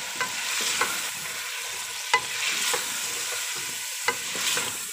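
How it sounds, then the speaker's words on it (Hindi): Cubed potatoes and tomatoes fry in a pan with an even, close sizzle. A few sharp utensil taps break through it at intervals, and nobody speaks. "इन्हें भून लूंगी।"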